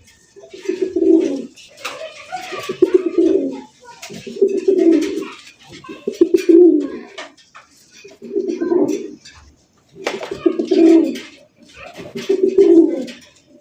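Pigeons cooing at a pigeon farm, a close, loud run of deep rolling coos in regular bursts about every two seconds, with faint background rustle and no voices.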